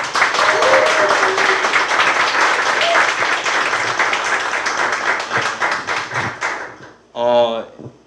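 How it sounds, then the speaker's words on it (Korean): Strong audience applause at a franchise forum lecture, dense clapping sustained for about six seconds before tapering off, followed by a short burst of a voice speaking. "큰 박수 부탁드리겠습니다"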